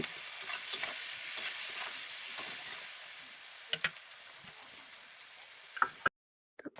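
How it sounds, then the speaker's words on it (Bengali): Chopped onions fry in oil with a constant close sizzle and occasional scraping stirs, and a couple of sharper knocks near the end before it cuts to silence. "পেঁয়াজটাকে আমি তেলের মধ্যে দিয়ে দিয়েছি এবার আমি ভালো করে পেঁয়াজটাকে ভেজে নেব"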